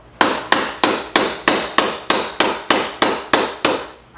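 A hammer strikes the end of a scraper handle to pry asbestos floor tiles off hardwood, giving about eleven sharp, evenly spaced knocks, each with a short decay, close and loud.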